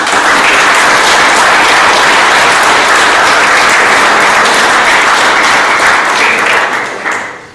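An audience at a senior celebration event gives a loud, sustained hand of applause, a thick continuous roar of clapping that holds steady before tapering off at the very end.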